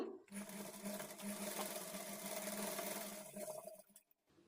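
Close and steady, a sewing machine whirs through a single continuous run stitching darts on a halter-neck blouse, slowing and stopping near the end.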